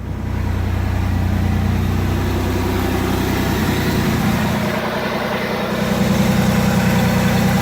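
Steady, close idle of a 1993 Chevy Camaro engine, a continuous low rumble that holds even throughout with no talking.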